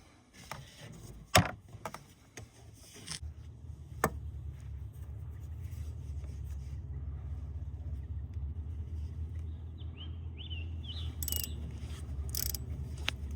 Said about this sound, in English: you just need to turn this bolt right here